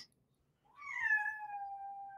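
A cat gives a single drawn-out meow, rising then sliding down and holding, clear and fairly close in an otherwise quiet room.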